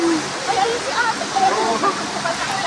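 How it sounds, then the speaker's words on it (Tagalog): Heavy rain pours down steadily, a dense hissing wash like falling water, with a voice speaking over it. "Lakas ng ulan, guys."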